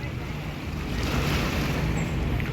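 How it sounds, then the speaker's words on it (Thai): Steady low rumble of a river dinner cruise boat engine running slowly, with water wash and wind noise, continuous and fairly loud, no talking. "เรือเดนเนอร์จะวิ่งช้านะครับ"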